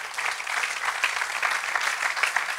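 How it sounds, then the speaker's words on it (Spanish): A church congregation claps together in sustained, dense applause at moderate distance, an even wash of hand claps with no pauses. "Dale un aplauso al Señor. Praise God."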